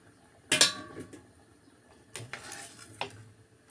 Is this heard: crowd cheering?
no